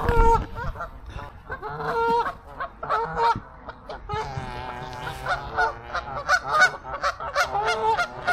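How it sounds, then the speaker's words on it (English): Canada geese honk and call repeatedly in uneven bursts close by, with loud overlapping cries. "Canadian geese"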